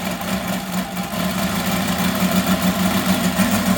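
A UMS 7-90 seven-cylinder radial gas engine idling at about 1,000 RPM, a steady close chugging hum with a fast even pulse and faint vibration throughout.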